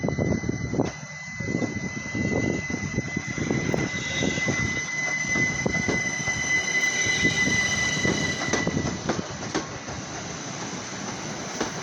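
A Class 387 electric train on a Southern service pulls away from Hastings station. The sound is loud and continuous, with rumbling wheels, clanking carriages and a steady high whine, and no one speaks over it.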